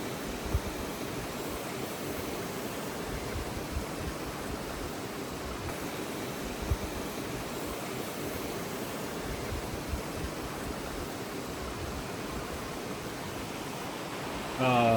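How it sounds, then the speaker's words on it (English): Loud, steady rushing roar of a raging river right nearby at a gravel camp spot, a dense broadband wash of water that holds constant throughout with only slight surges. "This raging river right behind me here"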